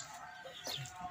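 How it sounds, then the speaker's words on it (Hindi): A hen clucking in a backyard coop, one brief faint cluck over low ambient noise, with no talking. "देखेंगे मुर्गी है, नई मुर्गी है।"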